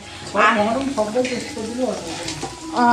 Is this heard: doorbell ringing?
no